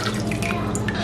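Tamarind water, 30 grams of tamarind kneaded into about 80 ml of water, pours into a pot of mutton bone rasam on the stove, a short close liquid splashing trickle.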